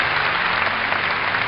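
A streamer claps their hands, giving a short, steady burst of close, dense clapping.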